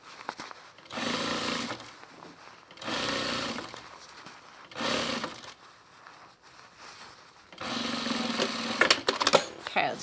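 A sewing machine stitches a knit cuff onto a bomber jacket in several short bursts of buzzing needle chatter, separated by pauses, close and moderate in level with a longer final run.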